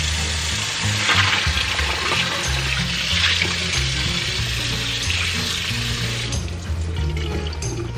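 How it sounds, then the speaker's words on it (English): Cold tap water runs steadily over blanched spinach in a kitchen, a continuous splashing rush with no talk. "let's turn off the fire and take it out and rinse it with cold water."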